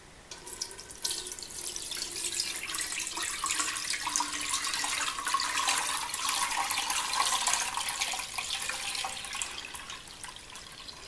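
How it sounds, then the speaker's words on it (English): Freshly squeezed juice for hard cider pours and trickles through a sieve, a continuous close splashing stream that holds steady throughout with no talk. "Now that I've squeezed most of the juice out, I just need to strain it through"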